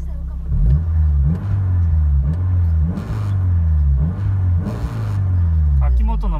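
A Honda S2000 AP2 fitted with an Akimoto aftermarket muffler revs repeatedly, a deep loud rumble rising and dropping in regular pulses, close by.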